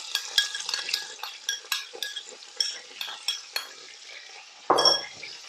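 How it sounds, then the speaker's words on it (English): Cumin seeds, fresh ginger and garlic frying in a pan for a chicken balti, a steady close sizzle broken by repeated scraping and clinking stirs from a metal utensil, ending with one heavier clatter. "After a few minutes, the ginger, garlic and the zira has fried up."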